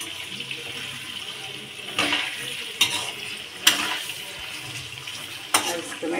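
Chicken frying in a home kitchen pot is turned with a spoon, a steady hiss of hot oil broken by a few sharp scrapes and clinks of the spoon against the metal.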